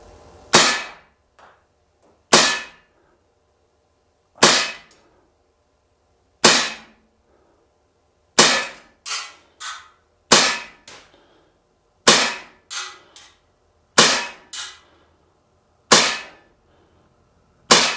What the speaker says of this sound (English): So I'm gonna shoot at the very top ring of this target